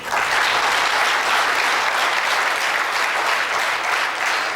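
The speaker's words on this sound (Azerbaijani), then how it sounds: "Bir daha sizdən bu uşaqlar üçün alqış istəyirəm." An audience applauding children at a joint school art exhibition in Azerbaijan, a dense, steady round of clapping from many hands that holds at full strength throughout.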